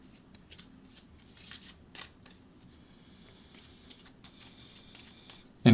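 Tarot cards handled and drawn from a deck, faint close papery slides and light taps scattered across a quiet room, ending in a sudden louder knock.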